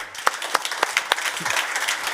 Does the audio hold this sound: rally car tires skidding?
no